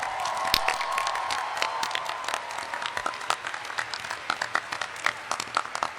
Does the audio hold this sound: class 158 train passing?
no